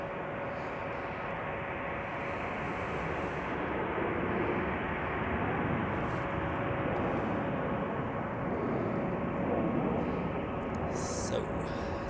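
A Croatia Airlines airliner taxis at Zurich Airport on a winter day after de-icing, a steady broad jet roar with a faint whine, constant and fairly distant throughout.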